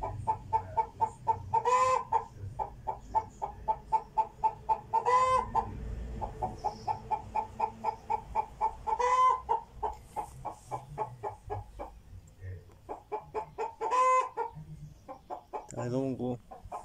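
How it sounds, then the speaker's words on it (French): A rooster in a henhouse crows loudly several times, roughly every few seconds, while hens keep up a busy rhythmic clucking close by throughout. "le coq qui commence à faire ses vocalises"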